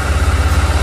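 A motorbike idles close by on a forest road near Garbhanga Reserve Forest, its low engine throb steady and loud with an even pulsing rhythm through the short stretch, no voices present.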